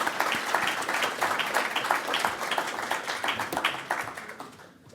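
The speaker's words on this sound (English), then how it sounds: "Everyone, let's give a warm round of applause for him." An audience at a university lectureship event applauds a medal recipient with dense, even clapping throughout that fades out at the end.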